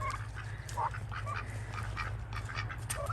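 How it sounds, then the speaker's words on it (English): Ducks quack in short, scattered calls at a moderate distance over a low steady hum, with no talking. "How many ducks do we got in there?"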